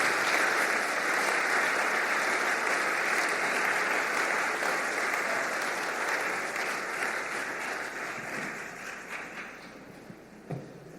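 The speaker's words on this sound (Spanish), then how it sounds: "Denle un aplauso a Dios y tome su lugar" A church congregation at a Spanish-language service claps together in sustained, even applause that gradually tapers and fades over about ten seconds, with a faint bump near the end.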